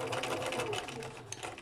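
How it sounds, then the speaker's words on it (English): A sewing machine runs steadily through a slow straight stitch, fitted with an embroidery foot and a very large needle, its close mechanical whir and rapid needle ticking continuous throughout. "we're just working really slow with the sewing machine just to get it on"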